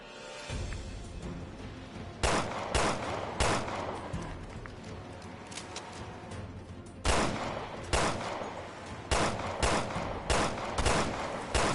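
Gunfire in the video game Resident Evil Revelations 2, with loud, close shots fired in short bursts and single cracks spread across the clip over a busy game background, with no talking.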